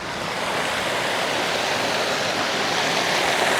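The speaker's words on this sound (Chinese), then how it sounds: "这里呢，又是一个鱼池的出水口啊，看到，像个瀑布一样" Outflow from a sturgeon fish pond spills like a small waterfall in a Guizhou canyon, giving a continuous broad rushing roar that swells slightly toward the end, close and loud, with no talking.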